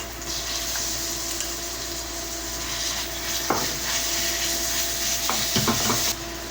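Ground pork sautéing with onion and garlic in a pan: a steady sizzle throughout, broken by a few brief scraping knocks of the spoon as it is stirred.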